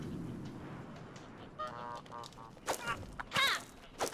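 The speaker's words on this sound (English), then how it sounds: "Maybe we have to catch the geese and make them go get the worms." Cartoon geese in the video game Knights & Bikes honk softly in short bursts, a couple of quick calls followed by a louder double honk, with little else around them.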